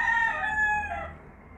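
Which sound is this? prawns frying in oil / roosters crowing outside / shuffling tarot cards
roosters crowing outside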